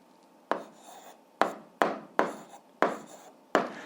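Pen scratching across paper while working algebra problems, six separate short bursts of writing strokes, each a quick sharp start fading into soft scraping, close and quiet with no talk.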